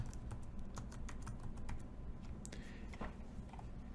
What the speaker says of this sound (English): I'm going to go ahead up here to the name and I'm going to type in White Sands